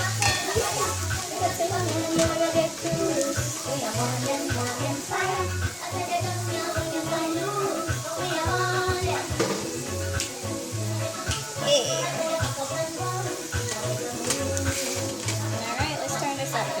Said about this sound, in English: we're going to let that saute for 2 to 3 minutes. I'm going to stir it a little bit so it won't stick to the bottom of the pot